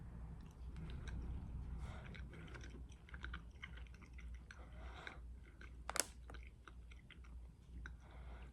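Soft, close chewing of a pineapple punch Lifesaver gummy, with faint moist squishes and small clicks repeating over several seconds and a brief louder smack near the end, with no talking.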